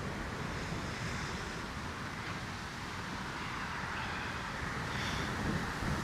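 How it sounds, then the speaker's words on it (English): Cold wind blows steadily outdoors, a constant low rushing roar with slight gusty swells toward the end, heard alone without any talking. "But it's windy and it's blowing in cold air."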